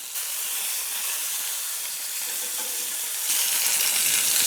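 Chicken searing in a hot pan gives a steady, bright sizzling hiss that gets slightly louder near the end, with no talking.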